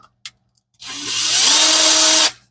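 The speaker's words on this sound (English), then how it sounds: "try to drill just a small drain hole." After a couple of faint clicks, a power drill whirs loudly and steadily for about a second and a half while drilling a small drain hole in a Turbo 460 transmission, then winds down and stops.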